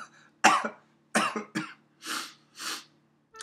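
Several harsh coughs and throat-clearing bursts from a sick person come in uneven clusters, close and fairly quiet, with short pauses between them.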